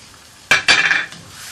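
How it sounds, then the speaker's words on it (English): A utensil scrapes and clinks against a pan while tomato puree is stirred into lamb chops, two quick close strokes followed by a short rattling scrape, with no voice over it. "just mix it in there a little bit like so"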